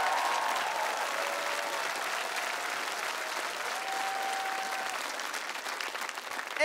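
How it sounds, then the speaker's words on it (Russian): A television show audience applauds a singer after her performance, a steady, dense wash of clapping that holds throughout without voices on top. "Ваши аплодисменты!"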